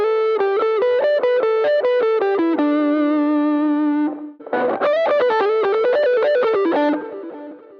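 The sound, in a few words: electric guitar pentatonic lick played slowly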